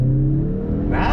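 A 2021 Mazda 3 Turbo all-wheel-drive hatchback in sport mode accelerating hard, the engine note rising steadily with a whirring climb in pitch and a brighter upshift-like surge near the end, close and loud.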